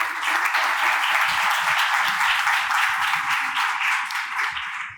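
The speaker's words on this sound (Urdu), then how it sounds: "آئیں اس کے لیے زوردار تالیاں بجائیں" A church audience at an Urdu-language Bible class breaks into loud, dense applause, a sustained even roar of many hands clapping close by that fades slightly at the end.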